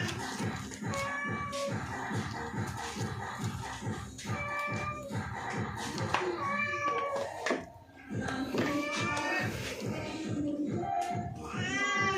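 A cat meows insistently and close up near small fish being scaled and gutted with a knife, with a long series of cries over steady rhythmic thumps and scraping, pausing briefly before the meowing resumes.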